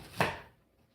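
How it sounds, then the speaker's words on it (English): A single crisp knife chop through an onion on a cutting board, close and quiet, one short thud that fades quickly. "And start cutting this onion up"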